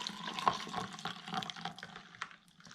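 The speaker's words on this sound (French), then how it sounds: "je vais remplir d'eau mon petit" Tap water runs into a small container while mixing laundry detergent for slime, a steady close splashing fill with no talking.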